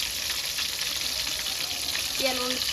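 Pomfret fish frying in oil, a loud steady sizzle that fills the whole stretch without a break, with a faint clink near the end.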